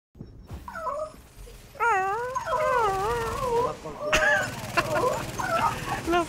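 A dog in the video game The Division whines and howls in drawn-out, wavering, pitch-sliding cries over steady game background noise, fairly close and continuous.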